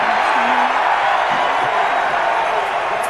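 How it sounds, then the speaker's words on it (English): A studio audience at a live gaming TV show cheers and whoops in a loud, steady roar that fills the space, with no talk over it. "Man, the crowd is good."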